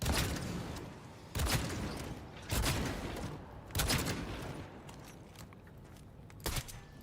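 Bursts of gunfire in Cyberpunk 2077, four loud volleys spaced about a second apart with a fainter shot near the end, each followed by decaying rumble.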